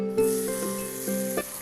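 Chopped tomatoes dropped into a pan of fried ginger and garlic for paneer butter masala sizzle steadily up close. A few louder crackling bursts rise from the hiss, with no talking.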